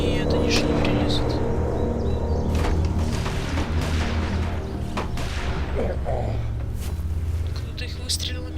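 A burst of loud gunfire and booms in The Walking Dead video game, several sharp shots in quick succession followed by rumbling, with some lower activity later.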